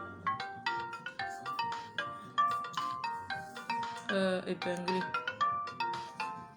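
A melodic telephone ringtone plays near and clearly, with repeated bright chiming notes in a steady looping pattern while a voice briefly speaks over it.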